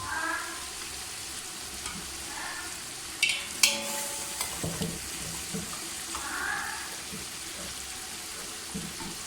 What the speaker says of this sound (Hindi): तो अब मैं इसमें यखनी ऐड करने लगा हूँ।